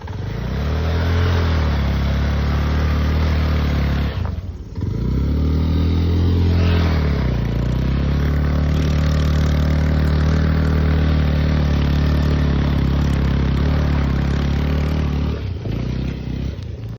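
A motorbike engine runs loud and close, idling with a deep throb and repeatedly revving up and dropping back, with no audible talk over it.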